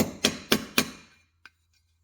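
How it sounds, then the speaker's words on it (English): Three sharp metallic blows from a big hammer on a socket, pressing parts into a Honda N600 clutch pressure plate, land in an even rhythm, close and loud, followed after a pause by one faint light tap. "you take a socket, put it down like that, hammer it in"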